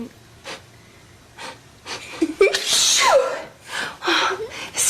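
A voice imitates a sneeze, with a sharp inhaled gasp building to a loud burst, close and clear, amid breathy sounds and brief speech.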